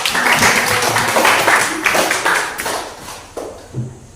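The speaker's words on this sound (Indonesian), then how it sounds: "Beri aplaus untuk" A classroom of students applauding together at the end of a presentation, dense continuous clapping that thins out and fades into scattered claps toward the end.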